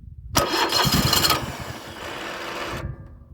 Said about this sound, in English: the starter cranks